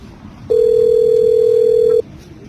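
A phone call being placed to a boss: a single steady ringing tone sounds for about a second and a half, loud and clear over a low background hiss, then cuts off.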